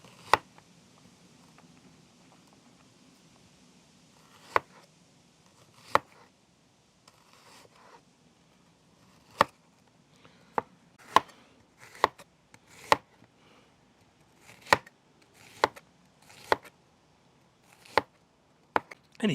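Sharp, irregular knife chops on a cutting board as onions are finely cut for a sweet and sharp onion relish, a close run of crisp taps with brief pauses between bursts, and no talking.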